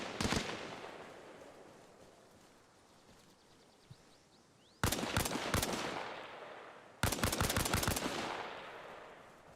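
Machine gun fire in a combat video game, two sharp bursts of rapid shots a couple of seconds apart after an earlier single crack, loud and punchy over a faint ambient background.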